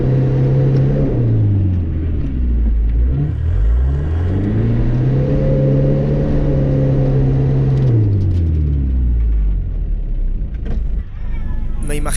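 The engine of a 4x4 off-road car strains on a trial course, revving up and down through long rising and falling sweeps, loud and close from on board, with a heavy low rumble throughout.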